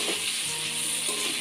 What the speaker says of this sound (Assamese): ইয়াতে পিঁয়াজ বিলাহী আৰু বাদামখিনি দি দিছোঁ আৰু অলপ এইখিনি ফ্ৰাই কৰি ল'ম